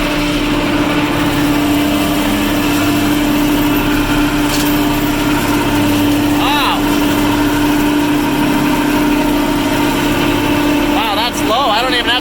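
A tractor engine runs hard at steady revs, driving a mower through its PTO, a loud, constant mechanical drone with a few brief squeaks and someone talking over it now and then.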